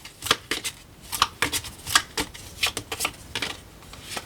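Tarot cards being cut and handled, a run of close, crisp papery snaps and riffles in irregular bursts, with no talking.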